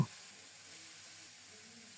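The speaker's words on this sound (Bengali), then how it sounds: "নেড়ে চেড়ে শুটকিগুলোকে খুব সুন্দর মতো ভেজে নেব পুড়ে যেন না যায় সেটাও খেয়াল রাখব" Dried fish and potato greens frying in a pan, a soft steady sizzle and hiss that holds evenly throughout after a brief clatter at the start, with no talking.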